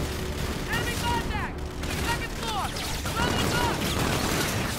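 Sci-fi combat gunfire from the shooter Call of Duty: Infinite Warfare, including a silenced weapon, crackles in a steady, dense barrage under electronic chirps and game effects, with a voice talking over parts of it.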